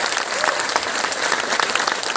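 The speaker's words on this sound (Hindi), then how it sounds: "अब जो लोग खड़े हैं अपने लिए जरा तालियां बजाएं" Standing audience members at a motivational talk clap for themselves, a close, busy burst of many hands applauding steadily without pause or speech.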